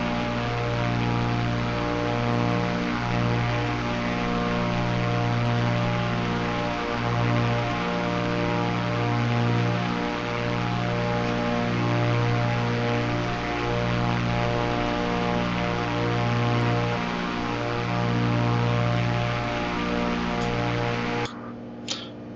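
An aircraft engine drone from Microsoft Flight Simulator hums as a steady, tonal, layered sound with a regular pulsing throb. It continues evenly for about twenty seconds and then cuts off abruptly.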